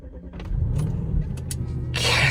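An Audi RS4 engine being cranked and fired up after repair work, a low rumble building under brief clicks, ending in a louder rush of noise at the end.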